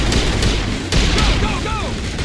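Gunfire in the video game Mass Effect Legendary Edition on Xbox Series X, with dense, continuous weapon shots and blasts filling the scene alongside voices.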